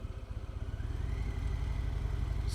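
A 2018 Harley-Davidson Fat Bob with Screaming Eagle slip-on exhausts idles with a deep, lumpy throb, near and steady, swelling slightly as it runs.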